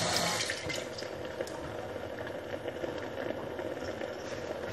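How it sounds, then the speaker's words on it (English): Tap water runs steadily into a sink as hands are washed beneath it in a kitchen, a soft continuous splashing with no talk. "Wash my hand."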